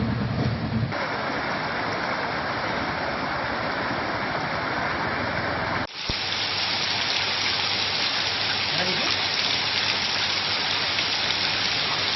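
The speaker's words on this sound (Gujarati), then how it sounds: "રાજુલા શહેર સહિત તાલુકાના ગ્રામ્ય વિસ્તારમાં ધીમે ધારે વરસાદ" Steady hiss of light rain falling continuously in Rajula, with an abrupt shift partway through to a brighter, fuller wash of rain.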